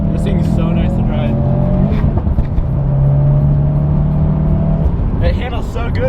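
A Series Grey Subaru STi with a stage 2 tune drives along, its engine droning steadily and loudly from inside the cabin with slight pitch shifts, while people talk over it.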